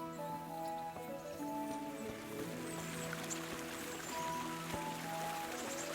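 A river flows under a small bridge in Kingdom Come: Deliverance, a steady close rush of water with a soft trickling texture and a low tonal hum beneath it, continuous for the full stretch without talk.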